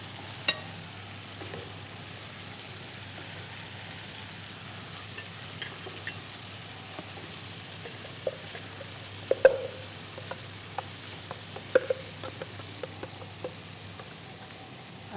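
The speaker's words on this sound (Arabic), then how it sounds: "احط عليها الصلصه" Sauce poured into a sizzling frying pan, giving a continuous low sizzle with a few sharp clinks and taps of stirring near the end, close and without talk.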